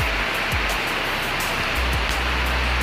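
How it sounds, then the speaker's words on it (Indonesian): Waterfall at the Seven Nymphs site in Aceh, a loud, steady broadband roar of rushing water, close and unbroken, with a few low thumps of wind or handling. "Inilah tempat"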